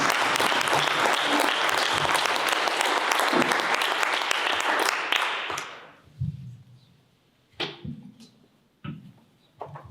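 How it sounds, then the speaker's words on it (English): Audience applause at a panel discussion on women mentors in architecture: dense, sustained clapping fills a hall for about five seconds, then fades into scattered claps and small room noises. "I would like you to give a bit of an applause to Sibil Sträuli."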